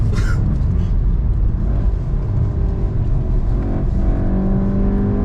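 A Volkswagen Golf 7R (7.5) driven hard, its engine roaring loud and continuous with a steady low rumble from inside the cabin.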